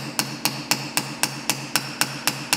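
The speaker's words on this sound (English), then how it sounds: "We're making the head with the hammer." A hammer strikes brass to form a rivet head on a knife, about ten sharp metallic taps in a steady, even rhythm, close and distinct, with a quiet workshop hum between blows.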